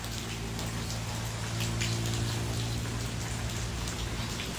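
Heavy rain falls steadily outside a house in Thailand where a tree has just been cut back, a dense even hiss of drops on surfaces holding constant, with a low steady hum underneath and no voices.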